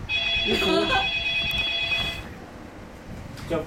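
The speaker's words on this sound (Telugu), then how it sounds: "ఫోన్ వస్తుంది." A telephone rings with a steady electronic tone for about two seconds, loud and close, while people talk over it, then the ring stops and the talk goes on.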